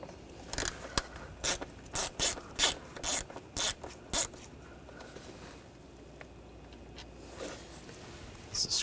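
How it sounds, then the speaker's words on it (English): A ratchet fitted with a T15 socket backs out a screw on the MAP sensor of a 1.4L Buick Encore, giving a series of about nine crisp clicking pawl bursts close up, followed by quieter scraping and handling. "There's a screw right there. Using a T15 socket."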